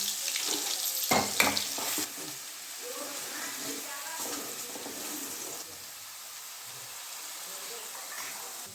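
Masala with garlic and cumin paste fries in a pan, a soft continuous sizzle with a few sharp stirring clatters early on, while a voice talks intermittently over it.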